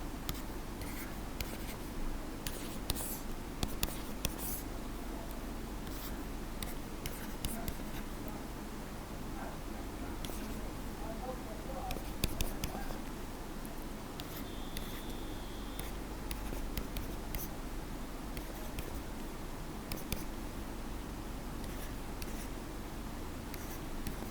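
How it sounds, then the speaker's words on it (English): Pen writing out a matrix on paper, a quiet, steady scratching of strokes with occasional small taps, continuing alone for the whole stretch at a low, close level. "I'll write the matrix as it is."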